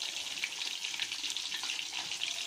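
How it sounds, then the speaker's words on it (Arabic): Fish frying in oil for a crispy battered dish gives a continuous soft, crackling sizzle, steady and fairly quiet, with no voices. "نزلتها بالزيت"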